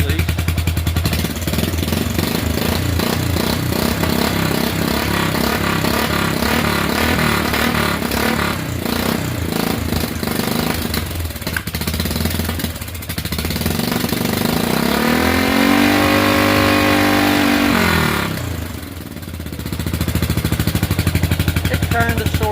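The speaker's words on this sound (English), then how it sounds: "It kind of sort of makes the turbo sound." A turbocharged 1987 Yamaha Big Bear ATV engine runs loud and close. It idles with an uneven, lumpy beat, then revs up in a long rising and falling sweep before dropping back to a rough idle.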